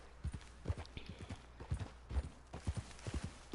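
Horse hooves clip-clop in a steady, brisk rhythm in Red Dead Redemption 2, close and clear, with thudding beats repeating throughout and no voices.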